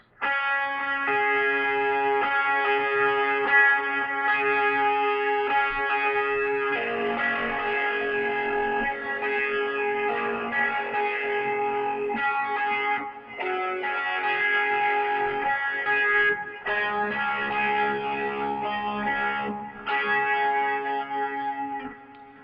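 Electric guitar strumming sustained chords through chorus and distortion effects, changing shapes every few seconds, with short gaps between some chords.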